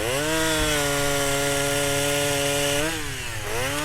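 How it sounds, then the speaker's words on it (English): A chainsaw runs at a strong, steady high-pitched whine, holding one pitch for several seconds before briefly dipping and revving back up, loud and close with no voices. "I have a chainsaw for an arm."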